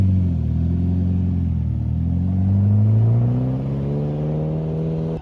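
A silver Ferrari F40 fitted with the LM kit drives past, its engine note a loud, deep drone that rises steadily in pitch as it accelerates, then cuts off abruptly at the end.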